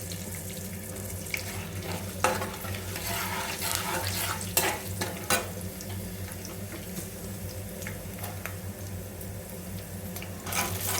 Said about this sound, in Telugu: ఆనియన్స్ మంచిగా ఫ్రై చేసుకోవాలి.